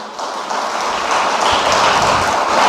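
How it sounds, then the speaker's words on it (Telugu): A church congregation clapping together during a worship service, a steady and fairly loud wash of applause that runs the whole time without pause and with no clear speech over it. "సంతోషమైతే చప్పట్లు కొడదాం."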